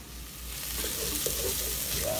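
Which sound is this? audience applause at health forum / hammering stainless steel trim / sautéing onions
sautéing onions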